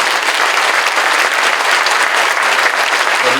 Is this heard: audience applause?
yes